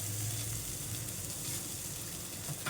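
Onions sauté with salt in a pan for tomato soup, a steady close sizzle and crackle of frying with faint stirring throughout.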